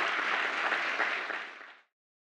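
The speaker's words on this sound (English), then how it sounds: "Give everybody a round of applause." Audience applause for pitch competitors at an awards event, a dense wash of many hands clapping steadily at close range before tapering off and cutting to silence, with no talk over it.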